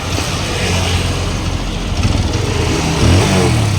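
A motorcycle that stalled after running low on petrol is restarted and runs with a loud, close, steady engine rumble, which rises slightly toward the end.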